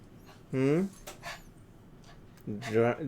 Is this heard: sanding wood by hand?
no